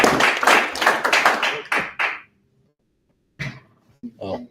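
Audience at a Deschutes Tech Guild meetup clapping for a speaker, a brisk burst of many hands lasting about two seconds, then a pause before a few scattered claps and a voice return.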